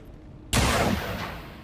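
A single sharp pistol shot in XCOM 2 cracks suddenly out of near silence, then decays into a long, fading reverberant tail.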